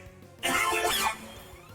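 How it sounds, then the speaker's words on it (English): A single short, harsh cough bursts out clearly and close, lasting under a second before quiet returns. "That was a cough, actually."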